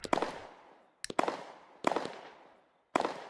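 Four sharp fireworks cake bursts go off one after another in the video game Fireworks Mania, each a crackling pop with a sizzling tail, separated by short pauses.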